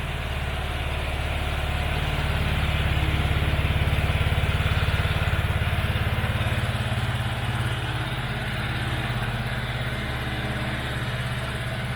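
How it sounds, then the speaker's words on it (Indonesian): A Vespa Primavera scooter engine, a Sean Wotherspoon limited edition, idles steadily nearby with a low, even putter and a slight rise in revs partway through, no talking. "Sekarang kita mau nyoba suara mesinnya guys"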